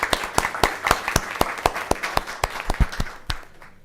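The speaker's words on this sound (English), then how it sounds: "let's give him a round of applause." Applause from a small audience at a Garden Grove city council meeting, with distinct individual hand claps beating in an uneven rhythm for about three seconds before fading out.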